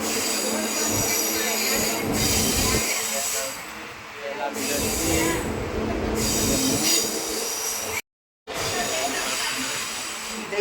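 A moving train rumbles along with wheels squealing on the rails in long, loud, high-pitched stretches, while faint voices carry in the background.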